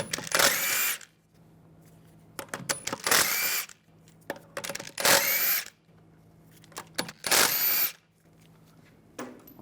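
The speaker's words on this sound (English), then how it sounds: "Take the lug bolts out." Impact tool spins lug bolts off a Mercedes E350 wheel with a 17mm socket: four loud, close bursts of whirring, each about a second long, separated by quieter pauses.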